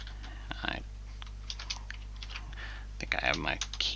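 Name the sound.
typing quickly on a computer keyboard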